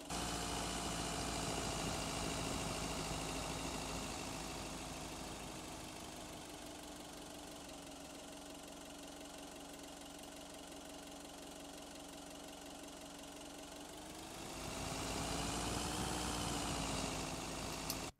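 Looping low-RPM engine idle sound played back in an adaptive audio engine, a steady rumbling drone that dips and fades quieter through the middle, then swells back up near the end.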